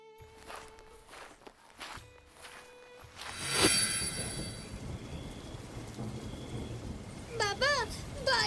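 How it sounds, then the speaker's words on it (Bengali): A cartoon thunderstorm follows a few sharp taps and footsteps, then a strong gusty rush of wind and rain surges up and keeps roaring, with brief high whistling tones. "বাতাসের শব্দ শুনেই বুঝছি খুব শক্তিশালী ঝড়।"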